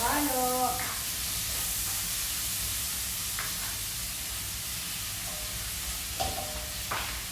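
A mung bean and vegetable dish sizzles steadily in a pan while being stirred, with occasional scraping sounds, and a voice talks briefly at the start.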